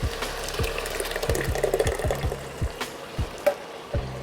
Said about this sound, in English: we're going in with our crushed tomatoes